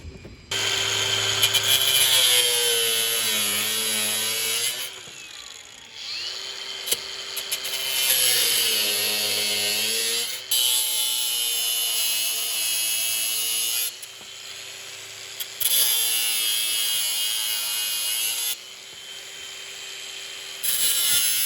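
A power driver backs wood screws out of an old railway speeder in long whirring bursts, each rising and falling in pitch, with brief pauses between them. The sound is close and fairly loud with no talking.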